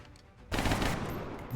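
A single gunshot in the video game XCOM Long War, a sudden loud blast after a quiet lead-in that rings on with a rumbling tail for about a second.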